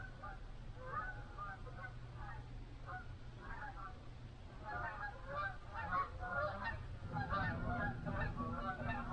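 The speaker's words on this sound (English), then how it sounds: "The geese are right overhead. I love that sound." Geese honking overhead in autumn, a flock calling repeatedly in overlapping honks, moderately distant and steady over a low rumbling background near an outdoor wood fire.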